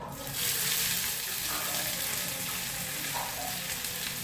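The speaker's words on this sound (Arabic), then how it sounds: "المهم كنديروا هاد البصله هادي كنديروها في المقله" Sliced onion sizzles in a frying pan, a steady close crackle and hiss that holds at an even level throughout.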